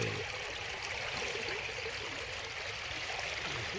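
A strong river current rushes steadily past fishing nets, a continuous close broadband wash of flowing water with no pauses and no voices.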